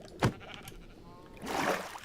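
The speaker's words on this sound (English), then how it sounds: "I was gonna do free-range sheep" A Minecraft sheep gives one short, loud bleat near the start, followed by a quieter rustling stretch of game sound.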